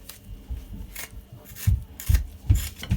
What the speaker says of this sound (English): So just get a spoon and just scrape it like that.